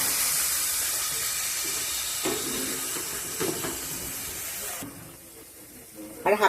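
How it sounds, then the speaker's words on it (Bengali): Capsicum and carrot sauté with sour yogurt in a pan, a loud, bright sizzling hiss that drops away suddenly near the end, followed by a few clinks. "টক দইটা দিয়ে আমি ভালো করে কষে নেব।"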